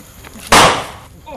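A single sharp video game gunshot cracks out loudly, then its echo fades away over a quiet background.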